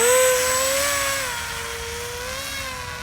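A small electric motor on a 950mm foam FPV delta wing RC plane hums with a steady, slightly wavering whine, the pitch gliding gently up and down as it cruises slowly.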